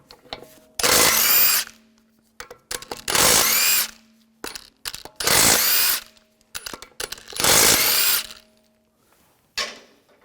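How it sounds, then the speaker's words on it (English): A power tool with a 17mm socket spins lug bolts off an Audi A4 wheel in four loud, steady bursts of about a second each, separated by quiet gaps with small clinks of the socket and bolts. "Using a 17mm socket, take the lug bolts off."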